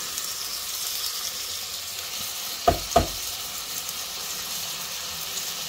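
Finely chopped bell pepper sizzles steadily in a frying pan, a soft continuous hiss throughout, broken by two brief louder pops or stirring clinks near the middle.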